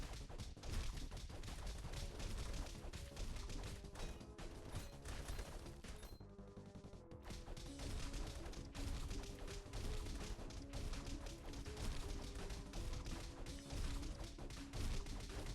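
Castle Crashers gameplay with light strafing combo attacks, a dense, loud barrage of rapid hits and crashes over game music, with a brief lull midway before the flurry resumes.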